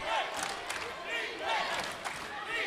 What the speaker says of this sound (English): it sort of woke up this crowd now as they're here, getting louder on defense for their Vikings squad